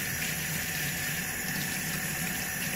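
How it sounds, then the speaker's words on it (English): Knives from a dye penetrant test rinsed under a steady running tap, handles included, giving a continuous broadband gush of water with no pauses or voices throughout. "She's got to give them a good rinse. Handle and everything, especially the handle."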